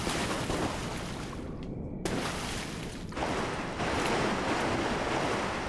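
Wading through deep water in the game Dark Souls 3 gives a continuous sloshing, surf-like wash that is fairly soft and steady, with a brief dip partway through and no voices.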